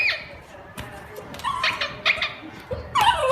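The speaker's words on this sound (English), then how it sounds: "This is a cute little puppy." A cute little puppy yips, whimpers and gives small barks in quick, uneven bursts, played back from a video and heard close over a faint hiss of background noise.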